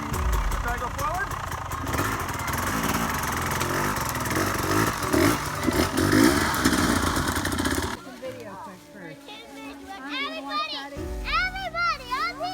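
A dirt bike engine runs close by with a rough, buzzing drone for about eight seconds, then cuts away to children talking and shouting with only a faint engine in the background.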